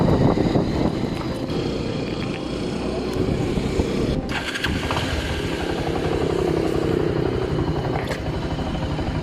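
A Bajaj Pulsar 220F motorcycle riding along a rural road, its engine a steady continuous drone throughout with wind rumble and no talk.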